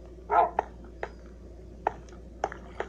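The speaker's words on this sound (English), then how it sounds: "You want food, Gucci dog?" A dog in a Minecraft game barks once, then gives several short, sharp yips and whimpers spaced irregularly, fairly close and clear over a quiet background.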